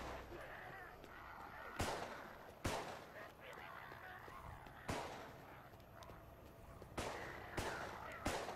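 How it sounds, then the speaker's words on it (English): Gunfire from shooting zombies in the video game 2037 Contagion: sharp, loud shots come in irregular single bursts over a busy background, with faint voices talking underneath. "Shooting them, Tom, I'm shooting them."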